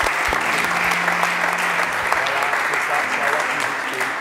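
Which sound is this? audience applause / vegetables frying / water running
audience applause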